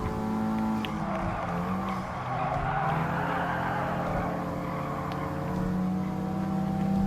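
JDM sports car racing in Gran Turismo Sport, a sustained engine drone with shifting harmonic tones, loud and steady throughout with faint tire squeal, no voices.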